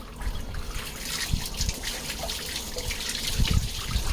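Warm water runs and splashes steadily from a tap while a dog is bathed, with scattered drips and splatters, close by and fairly quiet.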